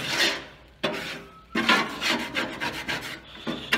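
Scraping a barbecue grill clean with repeated rough rasping strokes in several bursts separated by short pauses, close and fairly loud, with no talking.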